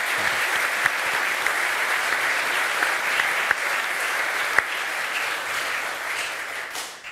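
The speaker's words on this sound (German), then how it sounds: "Bitte einen großen Applaus für Martin Groß." Studio audience applause for a guest on a German live sports talk show, a dense, steady wash of many hands clapping that holds evenly for several seconds and then tapers slightly at the end, with no talk over it.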